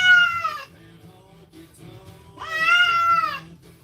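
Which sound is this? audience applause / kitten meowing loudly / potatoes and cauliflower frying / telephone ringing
kitten meowing loudly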